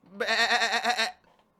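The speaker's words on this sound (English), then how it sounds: "let us hear the sound of a goat" A goat gives a single, clear bleat of about one second, loud, wavering and nasal, then falls silent.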